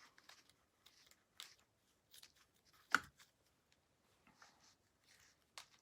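Material scissors cutting a craft piece, producing a few faint, scattered snips and crunchy cuts spread across a quiet room.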